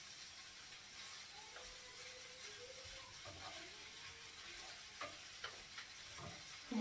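Spiced food frying and being stirred in a pan outdoors in a village, with a soft steady sizzle and a few scraping clinks of the utensil near the end.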